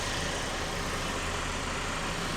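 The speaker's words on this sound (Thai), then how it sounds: "เครื่องยนต์ติดทำงานอยู่นะครับ" A 2012 Mercedes-Benz C200 CGI petrol engine idles smoothly, a steady, even low hum heard up close without talk or rev changes.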